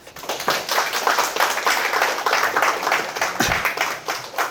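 An audience at a citizens' forum lecture in Asan claps after the talk ends, producing dense, sustained applause from many hands that swells in quickly and carries on steadily throughout.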